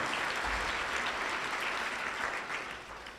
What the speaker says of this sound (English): So big round of applause for them, Manatee Healthcare Systems, for helping out